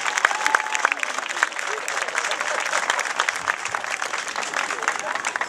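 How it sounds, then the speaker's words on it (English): Another round of applause at an MLK unity parade gathering, brisk clapping from a crowd with sharp individual claps standing out, voices and crowd noise mixed in throughout. "Let's give him another round of applause."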